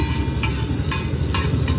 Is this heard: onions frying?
yes